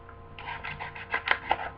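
Sandpaper scuffing the upper of a Jordan VII sneaker in short rasping strokes, a few close, louder scrapes toward the end, no talking.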